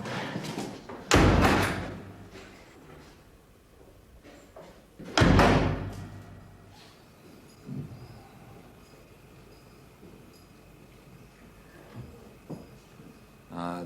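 A heavy prison cell door at HMP Swansea in 1988 slams shut twice with loud, booming thuds, followed by fainter clanks and knocks of the lock in a reverberant wing, with some speech nearby.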